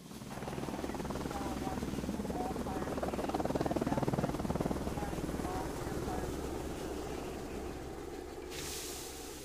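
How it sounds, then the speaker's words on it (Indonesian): A firefighting helicopter gives off a steady, dense rotor thrum and engine roar that swells slightly in the middle and holds throughout at a moderate distance. "Helikopter pemadam kebakaran."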